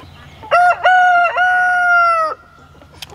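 A rooster on a small farm with meat birds crows loudly and close by, a single long cock-a-doodle-doo with a stuttering start, then fading to quiet yard noise.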